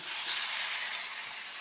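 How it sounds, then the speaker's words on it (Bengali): A spice-coated rohu fish fries in a pan, producing a short burst of steady, bright sizzling hiss at close range with no voices. "এবার ভাজবো দ্বিতীয় মাছটা, এরকমভাবে আবার দ্বিতীয় মাছটাও ভেজে নেব।"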